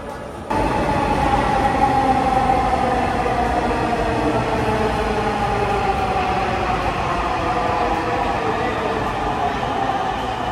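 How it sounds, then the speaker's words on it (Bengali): A Dhaka metro rail train arrives at Bijoy Sarani station at night, a loud, continuous rumble with a slowly shifting tonal whine, close by and sustained throughout. "ট্রেন আসতেছে, 1 মিনিট বাকি আছে না?"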